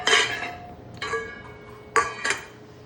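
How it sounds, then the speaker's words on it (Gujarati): A steel spoon clinks against a dish at home beside tea and breakfast, four short, bright metallic taps spread unevenly over a few seconds, close by and fairly quiet, with no voices. "ચમચી લાગી."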